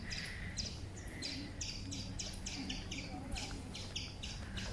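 Birds chirp among very large, old trees along a path, with repeated bright twittering calls in quick bursts over a steady low background rumble.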